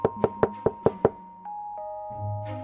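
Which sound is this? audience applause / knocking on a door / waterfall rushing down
knocking on a door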